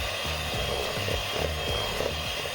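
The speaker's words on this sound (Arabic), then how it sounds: "ودابا نطربو البيض هو الاول" An electric hand mixer whirs steadily while beating eggs for a nut cake, with a rhythmic knocking of beaters against the bowl several times a second, close and fairly quiet.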